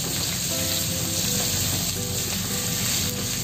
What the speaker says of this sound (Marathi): हे कांदे चांगले परतून घ्यायचे।